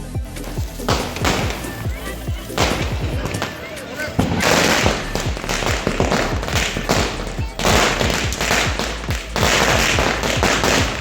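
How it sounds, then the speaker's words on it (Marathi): Firecrackers set off during a village Bhaubeej Diwali celebration, a rapid run of sharp cracks and thuds, loud and close, with dense bursts and brief pauses, while people talk in the background. "तर फटाके फोडले"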